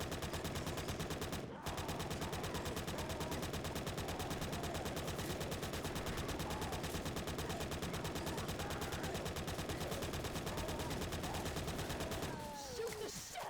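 Rapid, relentless automatic gunfire from the zombie shooter Left 4 Dead 2 on Expert difficulty, a loud, evenly spaced machine-gun rattle that runs almost nonstop, briefly breaking once early and fading at the end.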